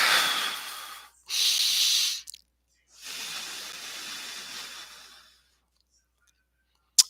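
A single deep breath drawn in and let out slowly, a long airy hiss close to the microphone, followed by quiet and a faint click at the end.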